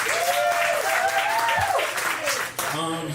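Steady applause fills the clip, with a voice talking loudly over the clapping throughout.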